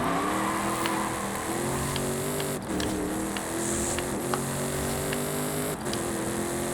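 A 2016 Toyota AT37 Land Cruiser Arctic Trucks with an off-road tune drives in a racing game, its engine droning steadily with small rises and dips in pitch and brief shifts, close and continuous, no talking.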